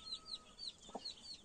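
Naked neck chicks, hatched from green eggs of a Legbar hen crossed with a naked neck rooster, give faint high peeping calls in a quiet yard, several short chirps spaced across the moment with a soft thump midway.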